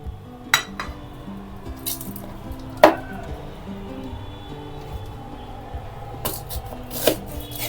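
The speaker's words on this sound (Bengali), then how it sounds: "এভাবে আমি পুরো আমটা কেটে নিব।" A knife cuts through a hard raw green mango in a kitchen, giving a few sharp isolated knocks and clicks spread across the stretch over a low steady background hum, with no talking.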